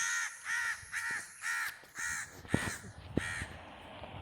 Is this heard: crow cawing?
yes